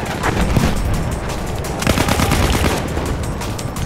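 Gunfire from the Battlefield 1 video game, with dense bursts of automatic weapon fire and overlapping shots continuing through the whole stretch at steady, loud level.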